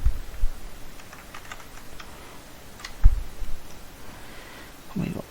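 Fast typing on a computer keyboard while someone codes: irregular bursts of light key clicks at close range, with a few heavier thumps in between and faint talk underneath.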